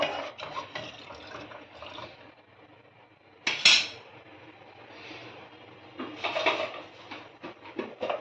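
Milk being stirred in a pan for vermicelli kheer: a spoon clinks and scrapes against the metal while liquid swishes, with one sharper knock midway and a busier burst of stirring near the end.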